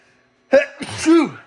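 A single sharp sneeze close to the microphone, a quick intake followed by a loud burst out of near silence.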